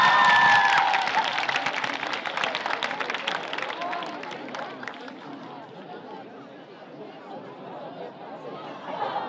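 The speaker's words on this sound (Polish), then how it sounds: "Brawa dla klasy." School audience applauding a class after a performance at a school event, clapping loud at first and then tapering off into softer scattered claps and crowd chatter.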